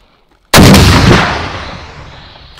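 After a moment of quiet, a single huge blast from a hand-held anti-tank grenade launcher booms out up close, then rumbles and fades over a couple of seconds.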